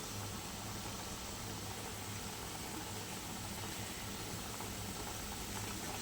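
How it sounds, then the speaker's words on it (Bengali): A thin parshe fish curry (jhol) simmers in a pot with a soft, continuous bubbling hiss, faint and steady throughout. "একটু ফুটে গেলেই আমার ঝোল একদম রেডি হয়ে যাবে বন্ধুরা।"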